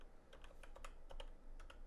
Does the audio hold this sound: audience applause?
no